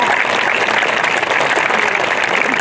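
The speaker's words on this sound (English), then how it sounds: "Please give him a round of applause." A crowd at a school graduation ceremony claps steadily for a perfect attendance award recipient, a loud, dense, continuous wash of applause from start to finish.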